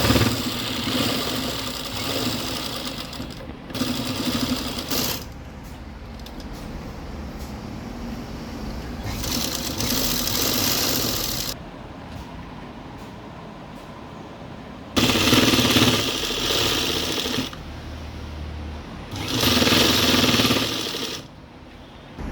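A sewing machine stitches thread piping onto a black nighty, its loud rapid whirring running in several bursts of a few seconds each, with quieter motor hum and pauses between them.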